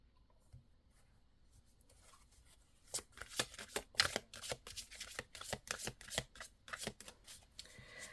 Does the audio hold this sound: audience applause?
no